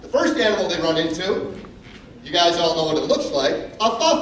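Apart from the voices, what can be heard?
No distinct noise like a dog, phone or traffic.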